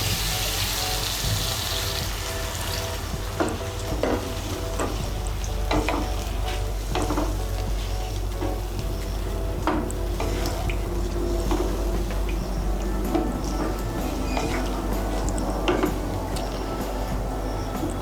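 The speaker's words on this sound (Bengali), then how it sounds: "আমি মশলার বাটিগুলো ধুয়ে আমি 1 কাপের মতো এর মধ্যে জল দিচ্ছি।" Water poured into egg and potato masala in a pan while spice bowls are rinsed, for egg biryani: continuous sizzling and bubbling with clinks, scrapes and splashes of water throughout, moderately loud and close.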